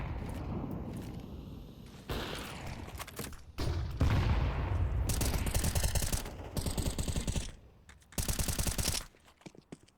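In a Counter-Strike match between GamerLegion and Monte at ESL Challenger Atlanta 2024, a player sprays automatic fire in loud, sharp bursts broken by brief quiet gaps, with rapid rattling shots close up.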